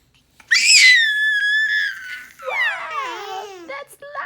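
Someone shouts loudly, first with a long, high, strained squeal and then with a wavering, sing-song yell that breaks into short bursts. It is close and dominant, with no adult voice.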